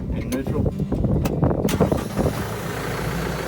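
Kioti DX9010 tractor engine running at a steady idle, a low continuous rumble with a speaking voice over it during the first part.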